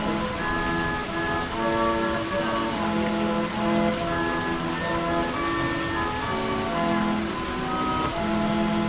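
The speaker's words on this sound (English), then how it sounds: "they set the hydraulic system off, which causes a huge downpour of water" Hydraulic fountain at Villa d'Este sending down a heavy downpour of water, a dense continuous rushing hiss heard steadily throughout, with faint sustained organ-like tones sounding through it.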